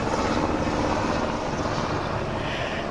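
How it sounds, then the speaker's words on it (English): A helicopter's steady, broad engine and rotor roar fills the air, constant and fairly strong, with no voices. "There's a helicopter."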